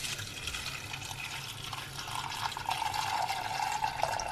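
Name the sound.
water being poured into pot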